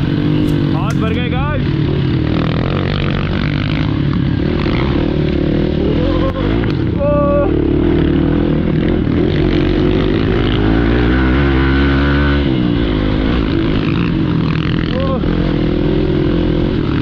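A Hero Xpulse motorcycle rides through dense jungle, its engine droning and rising in pitch close to the listener. A person talks over the engine for most of the ride.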